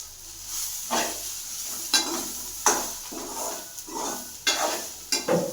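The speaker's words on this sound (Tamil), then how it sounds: "வெங்காயம், பூண்டெல்லாம் கொஞ்சம் வணங்கினதுக்கப்புறம் சோம்பு, சீரகம், கொத்தமல்லி இதெல்லாம் கொஞ்சம் கொஞ்சமாக போட்டு நல்லா ஃப்ரை பண்ணிக்கிறோம்" Onion, garlic, fennel, cumin and coriander fry in a pan for fish curry, giving a close sizzle punctuated by about six distinct, rhythmic scraping strokes of a spatula, each swelling and fading.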